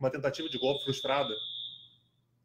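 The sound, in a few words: fire alarm ringing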